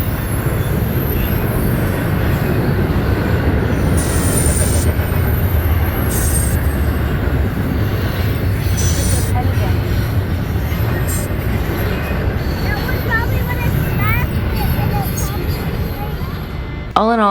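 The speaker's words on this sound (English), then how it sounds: "we got an Amtrak and a freight train all in the same 10 minutes" An Amtrak passenger train and a freight train roll past close by, a loud continuous rumble of wheels on rails with occasional squeals and clatter, with a voice talking over it near the end.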